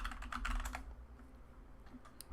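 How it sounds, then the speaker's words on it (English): A quick flurry of keystrokes on a computer keyboard, soft and close, then quieter scattered taps against a low room hum. "Okay, we're going to type in"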